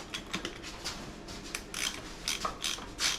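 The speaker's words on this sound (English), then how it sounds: "Your ratchet. You love it." Ratchet wrench clicking during removal of a 727 TorqueFlite transmission and NP208 transfer case from a 1980-1987 W150 truck, with quick bursts of fine mechanical clicks repeating unevenly, moderately close and fairly quiet, with no talk.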